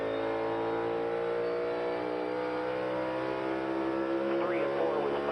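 NASCAR race car at practice and qualifying for the Straight Talk Wireless 500, its engine note droning loud and steady in harmonic bands as it shifts up to fifth gear, sustained throughout with a faint voice beneath.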